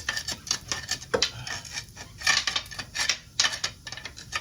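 Rust is scrubbed off a corroded freeze-out plug on a Jeep Wrangler engine, a close, rhythmic scratching and rasping of quick back-and-forth strokes with no talking.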